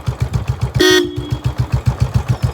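A short horn honk from a motorbike sounds over a steady, rhythmic idling engine thrum that pulses throughout.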